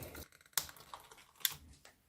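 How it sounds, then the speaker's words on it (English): Sharp scissors snip cable ties inside a 1979 Marantz CD 330 Superscope portable cassette recorder during a teardown, giving two crisp close clicks among small plastic rustles and taps. "So just carefully with this sharp pair of scissors, cutting those without cutting the cables."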